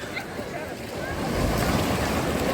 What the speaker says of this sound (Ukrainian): Пляж Золотий берег.